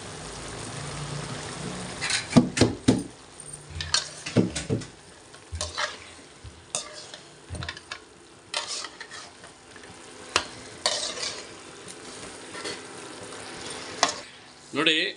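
Chicken frying in a pan gives a steady sizzle and bubbling, broken by several sharp clatters of stirring and scraping, close and moderately loud.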